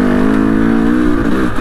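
A motorbike engine revs hard and steadily with a strained, muffled tone, its exhaust choked with mud after riding through wet, muddy lanes; the droning note holds close and loud throughout with no talk.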